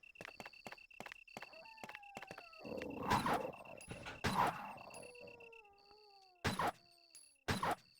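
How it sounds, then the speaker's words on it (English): Zombie dogs in Resident Evil: Deadly Silence let out growls, snarls and whimpering howls among game effects, including repeated beeping tones and several loud sharp bursts. The sounds come in separate episodes over a quiet background. "Zombie dogs, gotta watch out."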